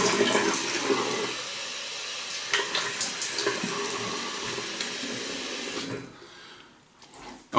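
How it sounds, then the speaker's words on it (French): Running tap water splashes steadily into a sink as a face is rinsed during a traditional wet shave, with broken splashing and dripping throughout, up close, before the flow quiets near the end. "Je me rince la figure."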